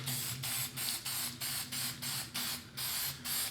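An aerosol can of crystal clear protective coating sprays in a rhythmic series of about ten short hissing bursts, each roughly a third of a second with brief gaps, close and steady.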